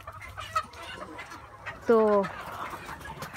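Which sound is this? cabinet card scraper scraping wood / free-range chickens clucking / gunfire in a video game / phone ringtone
free-range chickens clucking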